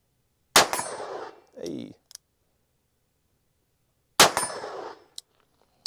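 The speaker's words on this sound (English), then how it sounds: "now 2 rounds of 357 mag" A Colt Python revolver fires two .357 Magnum rounds, each a sharp loud crack with a quick ringing decay, spaced several seconds apart; a short spoken word falls between them.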